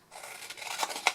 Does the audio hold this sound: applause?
no